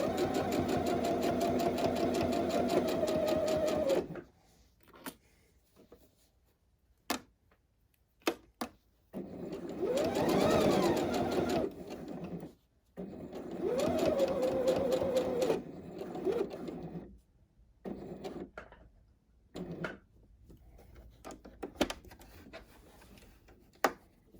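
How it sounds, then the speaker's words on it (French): A sewing machine stitches a pocket onto jogging trousers, running along the presser foot in loud mechanical bursts that stop and start, with quiet pauses between the runs of stitching. "Je reste plantée, je couds là tout le long de mon pied presseur."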